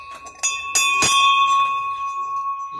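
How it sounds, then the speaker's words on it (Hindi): A metal bell at a Hindu temple in Ujjain district is struck a few times in quick succession. It rings loud and close, and the bright, sustained tones fade slowly. "घंटी बजाई,"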